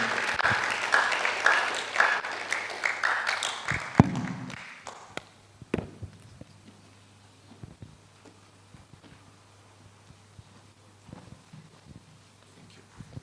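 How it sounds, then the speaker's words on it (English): Audience applause at the 2023 African Business Opportunities Forum and Expo after a speech, a broad wash of clapping for about four seconds that fades into a quiet room with scattered faint taps. "Let's give him a round of applause once again"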